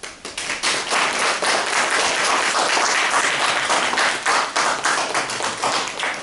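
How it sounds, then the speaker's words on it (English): An audience at a Toastmasters-style club meeting applauds for the evaluator with dense, continuous hand clapping, loud and close, lasting several seconds with no talking. "Let's now clap for our evaluator, Amitabh."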